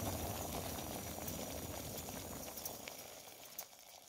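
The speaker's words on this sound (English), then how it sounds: "the Windmaster's got the water boiling faster than" Water boils in a pot on a Windmaster camping stove outdoors, a soft steady bubbling and hiss, fairly faint, easing slightly toward the end with a few small clicks and no voices.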